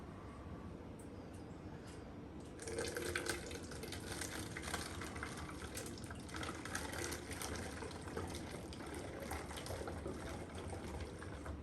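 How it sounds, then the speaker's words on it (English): Warm water pours into a toy volcano for a science experiment, a steady gushing, splashing trickle that starts abruptly and continues evenly, close and moderately loud. "step number 1 is pour in the warm water"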